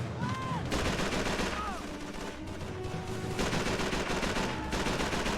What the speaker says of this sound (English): So many whizzing bullets, man.